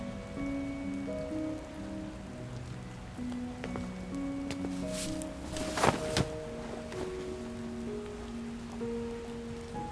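Steady rain falls at night in a video game, a soft, even hiss of drops continuing throughout under gentle musical tones, with a brief louder splash or thud near the middle.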